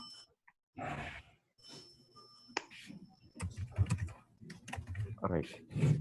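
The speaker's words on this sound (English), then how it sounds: "I can hear a lot of typing this one," Rapid typing on a computer keyboard during a Core Java programming class, a steady patter of clicks with short pauses and bursts, close by, mixed with some low background noise and occasional voice-like sounds.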